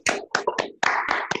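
A few people clap for Robert Dessau at an online Piotrkow descendants' meeting, six uneven, separate claps close to the microphone with short gaps between them.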